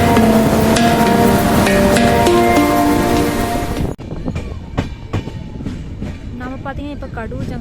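The Yesvantpur Intercity Express runs on the rails with a loud, continuous rumbling roar and tonal hum, which drops abruptly and gives way to quieter clacks and rattles, with a voice speaking over it.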